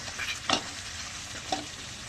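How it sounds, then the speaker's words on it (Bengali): Mutton and potatoes fry in a pan, a low continuous sizzle with two short scraping stirs of a spatula, close and fairly soft, without speech. "এই যে আলু দিয়ে মটন কষাচ্ছি"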